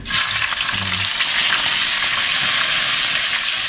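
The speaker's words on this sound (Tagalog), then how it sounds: "Yan, prito na natin to." Loud, steady sizzling of fish frying in hot oil, a constant crackling hiss close up with a few pops near the start.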